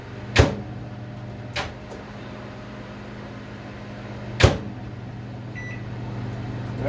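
A microwave oven runs while melting food, with a low steady electrical hum throughout, punctuated by a few sharp clicks or thumps, and a faint beep near the end.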